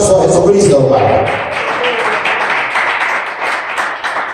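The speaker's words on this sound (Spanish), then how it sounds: "Denle ese aplauso a Jesucristo, hermano." Church congregation applauding for Jesus Christ, a loud, dense wash of many hands clapping close by, swelling then tapering slightly over a few seconds, with a voice audible at the start.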